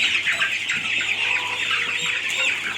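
A flock of Kharkov breed chickens clucks and chatters continuously at close range, a busy overlapping layer of hen calls with no pauses, alongside a faint steady low hum.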